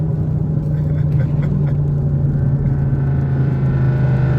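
An SRT Jeep engine holds a loud, steady droning rumble during an acceleration pull, a constant low hum with little change in pitch, heard close and alone.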